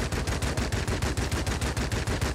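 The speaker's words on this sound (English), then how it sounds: "I can still hear my cannons firing" Aircraft cannons in the World of Warplanes video game fire in a rapid, unbroken burst, a loud, close stream of evenly spaced heavy thuds with no pauses and no voices.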